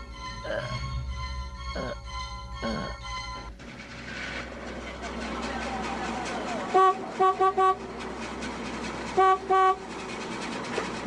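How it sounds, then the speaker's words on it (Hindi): Car horns honk in short repeated bursts, several quick toots in two clusters, loud over busy traffic noise after a lower droning start, outside a gate. "हॉर्न बजा रही हूँ, गेट क्यों नहीं खोल रहे हैं?"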